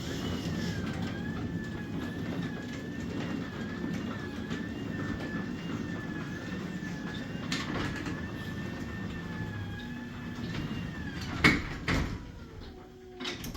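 Residential garage door opener driving the door down, a steady mechanical rumble and whine running for over ten seconds, ending with a couple of knocks as the door settles.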